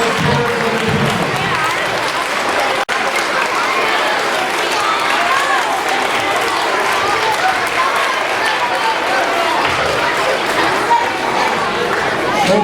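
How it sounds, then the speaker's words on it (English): An audience at a school Blue Ribbon celebration applauds its teachers, dense sustained clapping mixed with cheering and crowd chatter, loud and continuous for about twelve seconds. "enjoy applauding these teachers who have this great job and important job"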